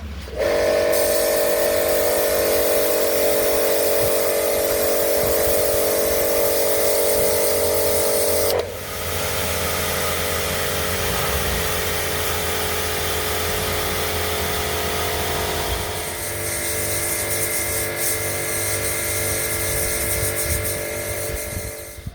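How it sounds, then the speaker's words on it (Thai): An STR 350-bar high-pressure water washer runs continuously, a loud steady motor whine with tonal hum and spraying hiss that shifts in pitch and pressure partway through, with no talking. "เครื่องฉีดน้ำแรงดันสูงของ STR นะครับที่ทางร้านเรานำมารีวิว"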